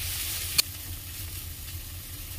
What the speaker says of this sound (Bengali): এটা আরও ভাজা হবে ভালোভাবে